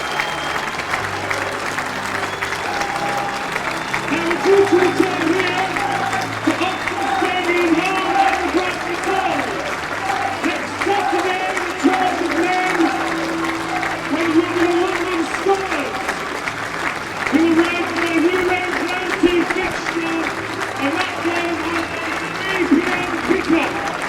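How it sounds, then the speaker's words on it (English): Crowd at a rugby league match between Bradford Bulls and West Wales Raiders applauds the team leaving the field, a steady wash of clapping under continuous commentator talk. "The West Wales Raiders, they're being given a hero's applause off the field."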